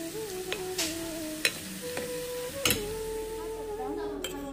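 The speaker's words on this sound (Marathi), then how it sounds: "तडका पूर्ण मिक्स करून घ्या" Tadka is stirred into a dish, with close scraping and occasional sharp clinks of a spoon against the pot over a faint sizzle, under a steady background tone and some quiet voice.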